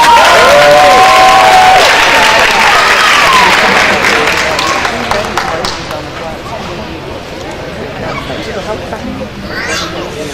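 Applause and cheering at a school campus banquet, loud clapping with high whoops at first that gradually thins and fades, leaving scattered claps and chatter from the room.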